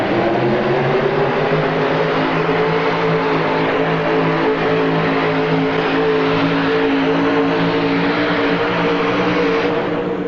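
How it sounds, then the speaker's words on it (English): A 1986 pulling tractor dragging a sled at an indoor tractor pull, a loud, continuous engine roar with a steady deep drone held for the whole stretch, close and dominant, no talking. "He's pulled the sled just past the checkered flag, and I believe that's going to do it."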